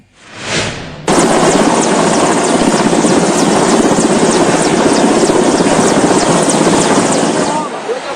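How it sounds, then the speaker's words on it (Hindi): Rescue helicopter flying overhead during army flood relief operations, a loud steady rotor roar that starts abruptly after a brief burst and holds close and continuous to the end. "आसमान से देवदूत बनकर आया हेलीकॉप्टर"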